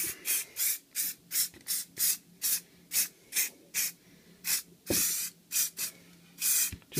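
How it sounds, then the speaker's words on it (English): Short bursts of sealant spray hissing from an aerosol can onto a 1/24 scale diorama, about fifteen quick sprays in an uneven rhythm, close up, with no talking. "So you just spray it all where you've done."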